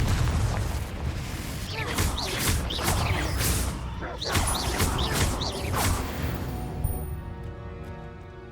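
Confringo fire-spell explosions in the Hogwarts Legacy video game crackle and boom repeatedly through a dense, loud stretch of combat noise, then fade toward the end.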